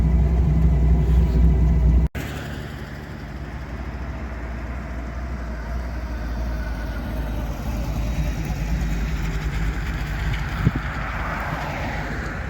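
A roadster drives along a road with a steady, loud engine and road rumble and gusts of wind noise throughout, broken by a brief dropout early on.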